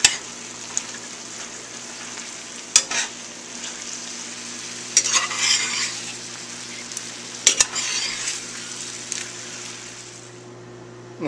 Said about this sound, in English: You just need to keep stirring at this.